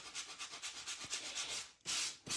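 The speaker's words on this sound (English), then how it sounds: "I have just really fine sanding blocks in my studio, and I'm just going to sand that off" Rhythmic scratchy rubbing of a fine sanding block across the edge of a die-cut greeting card, close up, in quick back-and-forth strokes with a brief pause near the end.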